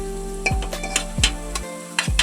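Ground masala paste roasting in a pan for pawta rice, with a steady sizzle broken by several sharp scraping stirs of a spoon against the pan, close and fairly loud.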